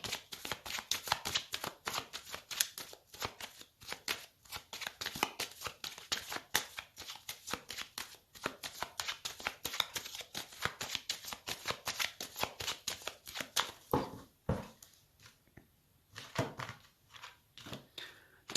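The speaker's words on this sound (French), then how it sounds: "je vais faire une coupe avec le tarot" Tarot cards are shuffled and cut in a long run of quick, crisp riffling and slapping bursts, close and dry, with brief pauses between handfuls.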